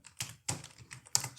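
Quick bursts of keystrokes on a computer keyboard as code is typed for a Spring Cloud config server setup, three clusters of clicks separated by brief pauses, close and clear with no talking.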